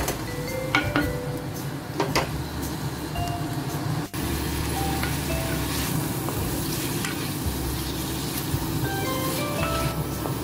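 Vegetables for Tibetan-style thukpa sauté in a pan with a continuous close sizzle, punctuated by repeated scrapes and clicks of a spatula stirring against the metal.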